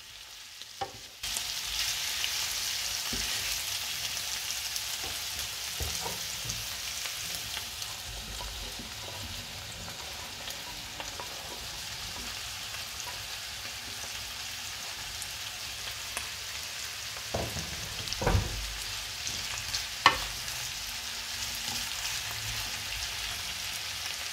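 Carrots and onions being stirred and sautéed in a hot pan with mushrooms to follow: a steady broadband sizzle runs throughout, with occasional scraping stir sounds and small pops, close and fairly loud, no talking.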